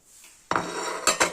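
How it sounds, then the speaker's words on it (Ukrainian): A salad being stirred in a bowl: after a quiet start, a close utensil scrapes and rubs against the bowl, then two quick clinks follow. "Зараз перемішаю за кадром."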